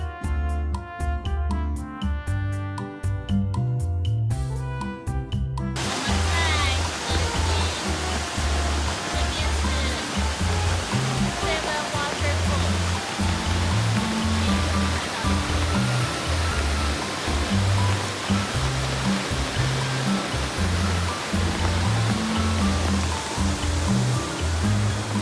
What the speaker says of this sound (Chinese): 河津7个瀑布之一，真的很多水，又下雨天。